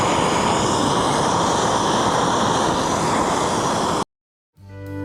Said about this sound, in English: Next, I'm going to heat the area up with a torch, and that also makes it easier to weld aluminum.